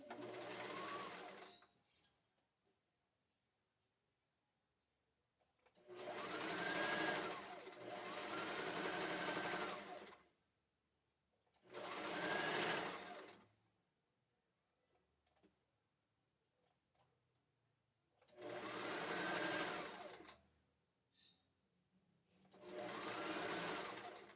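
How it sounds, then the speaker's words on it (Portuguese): A sewing machine stitching the seam of unisex shorts with elastic legs runs in five close, loud bursts of rapid rattling stitches, separated by quiet pauses. "Agora eu vou fazer a costura logo aqui na parte de trás também."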